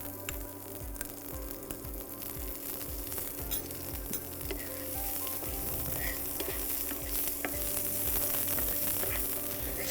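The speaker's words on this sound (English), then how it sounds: "at this stage we'll add some onions." Onions sauteing in hot fat with ginger and green chili give a steady close sizzle and crackle, with faint stirring scrapes and no talk.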